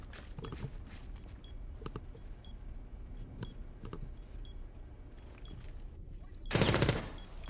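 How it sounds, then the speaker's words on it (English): Rapid gunfire bursts in a competitive tactical shooter match, with sharp repeated shots scattered through the clip and a louder blast-like burst near the end, over constant game background. "I don't know if somebody heard the gunshots over the explosion."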